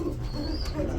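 Black Bombay gola pigeons coo softly in a brief, steady murmur over a low, busy background hum, with no voices present.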